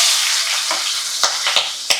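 Onions and green chilies fry in a pan for a beetroot curry, giving a steady close hiss of sizzling oil with a few sharp stirring knocks near the end.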